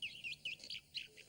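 A sparrow gives a quick series of about five bright chirps, faint and a little distant, each short and high-pitched with small gaps between, with no other sound around.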